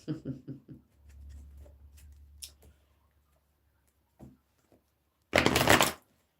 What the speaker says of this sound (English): Let me put these cards back in, give it a shuffle.